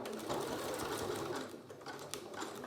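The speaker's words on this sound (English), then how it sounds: "I'm then going to sew all the way down." A sewing machine stitches down the length of a fabric face mask in a steady, continuous mechanical whir at close range, with no voices.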